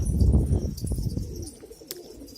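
A pigeon coos low and throaty up close, a short run of soft rolling calls, followed by faint rustling and a quieter background.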